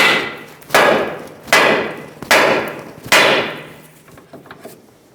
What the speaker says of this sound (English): Hit the control arm on either face and try and pop the ball joint out